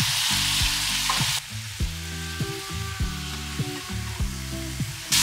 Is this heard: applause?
no